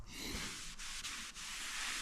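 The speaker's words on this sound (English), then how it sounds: "we'll probably need to do a little bit more sanding here" Steady, close rasping of sandpaper rubbed back and forth over an oxidized plastic headlight lens from a 2013 GMC Acadia, continuous with brief breaks between strokes.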